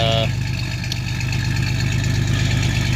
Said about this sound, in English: Sounds pretty violent and aggressive, don't it? That's because it's got a gutted catalytic converter